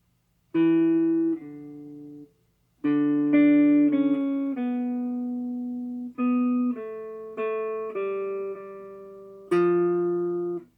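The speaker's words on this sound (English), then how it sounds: "Coincidentally, this is the melodic minor." A sustained, tuner-like tone steps through a melodic minor scale of held notes, rising then falling, each note clear and alone with brief gaps.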